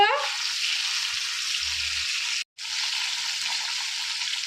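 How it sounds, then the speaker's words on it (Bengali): Hilsa fish fries in a generous amount of hot oil, a loud, continuous hiss and sizzle close by, broken by a brief silent gap midway, with a faint voice at the very start. "আমি ইলিশ মাছ বেশি ভাজবো"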